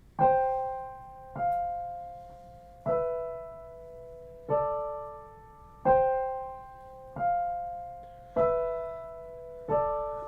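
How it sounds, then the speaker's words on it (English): Eight two-note intervals, perfect fifths and perfect fourths, ring out one after another at an even pace, each struck together and left to decay. "those are just perfect fifths and perfect fourths"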